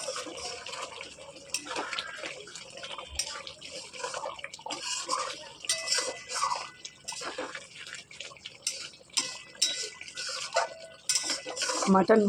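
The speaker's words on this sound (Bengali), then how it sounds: "মাংসটা একটুখানি ঢাকনাটা সরিয়ে দেখবো কতটা কি কষেছে।" Mutton kasha simmering in a pot as the lid is lifted, with metallic clinks, scrapes and a wet bubbling sizzle, fairly close and moderately loud, with brief kitchen clatter near the end.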